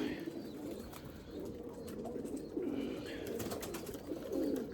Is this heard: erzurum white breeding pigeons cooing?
yes